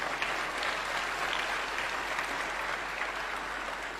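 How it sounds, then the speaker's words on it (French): Dense, steady audience applause at a public event in Senegal, a continuous roar of many hands clapping at moderate level with a faint low hum beneath and no talking. "il faut l'applaudir, Rogers Bill."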